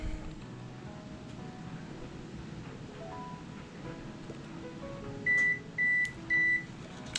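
An oven signals it has finished preheating with three short electronic beeps near the end, standing clearly above a quiet, low kitchen background.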